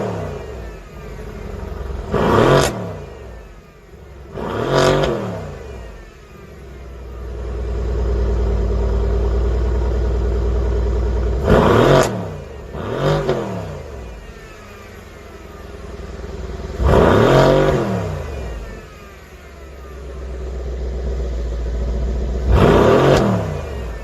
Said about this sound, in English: the 4-liter twin turbo V8, and well, this thing sounds immense